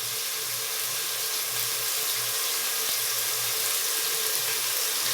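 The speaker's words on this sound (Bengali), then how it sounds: "এখনো পানি পড়তেছে।" Tap water runs steadily into a kitchen sink onto soaked rice during home cooking, a continuous even splashing hiss that stays close and unbroken throughout.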